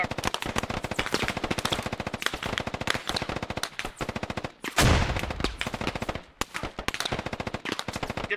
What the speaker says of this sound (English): Taking fire southeast from my location.